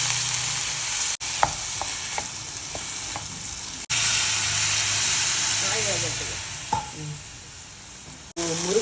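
Finely chopped broad beans stir-frying in a pan give a continuous, loud hiss and crackle, with a few brief interruptions and a voice speaking over it.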